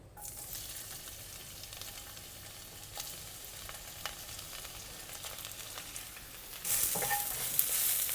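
Rehydrated shiitake mushroom strips stir-fried in hot oil in a wok give a steady close sizzle, swelling louder toward the end as the pan is stirred; no talking.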